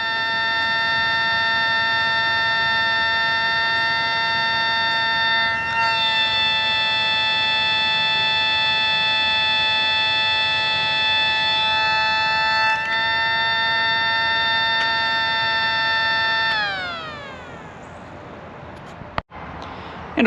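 USB-powered model civil defense siren of a Los Angeles series sounding a sustained close multi-tone wail, with a brief pitch dip midway, then winding down and fading before a sharp click at the end; no voices.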